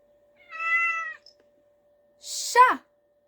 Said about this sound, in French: chat